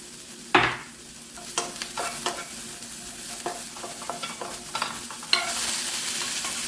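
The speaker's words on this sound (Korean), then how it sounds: "표고버섯을 먼저 볶도록 하겠습니다." Shiitake mushrooms stir-fried with salt over high heat sizzle steadily in a pan, broken by repeated sharp scrapes and clatters of a spatula tossing them.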